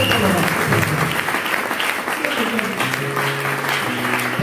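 Congregation at a church seminar applauding, a dense continuous clapping from a crowd that fills the whole stretch, with voices mixed in beneath it.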